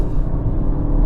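A 2021 BMW 128ti launches hard from a standstill, its engine roaring loud and close with a dense, choppy low-end rumble as the front wheels struggle for grip, in a single brief burst.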